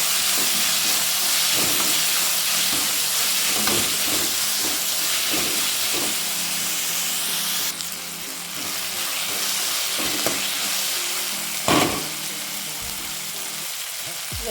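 Chopped tomatoes frying in a pan for a bottle gourd stir-fry, giving a steady loud hiss and sizzle with occasional soft clinks and stirring taps.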